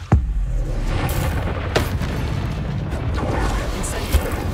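The Bombarda blasting spell in Hogwarts Legacy sets off a few deep booming explosions, a sharp one at the start, another a moment later and a third near the end, all over a rumbling game soundscape.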